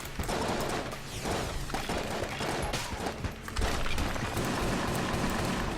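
Dense, continuous gunfire and bullet barrages from the video game Enter the Gungeon, rapid overlapping shots and impacts filling the whole stretch at steady high volume.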